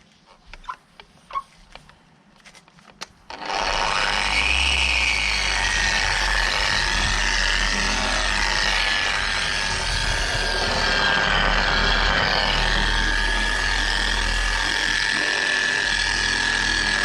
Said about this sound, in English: now it's back to the polishing